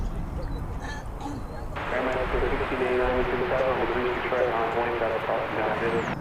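A plane that has just arrived from Tucson roars steadily at DFW Airport, a loud, sustained engine rumble that swells after the first couple of seconds, heard with voices talking.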